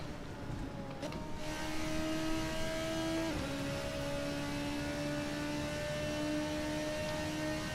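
A Ferrari race car engine in a racing video game drones steadily at high revs, with gear-change dips in pitch and a continuous whine, moderately quiet and without talk.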